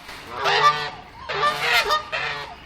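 Waterfowl in a large zoo aviary honk loudly in three close, nasal goose-like bursts, each a harsh stacked call with short gaps between them and no talking.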